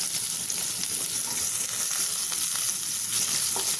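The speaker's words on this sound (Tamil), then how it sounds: "இதை நல்லா வதக்கிக்கலாம்." Halved large onion slices fry in hot oil in a pan with a steady, close, even sizzle throughout and no talk.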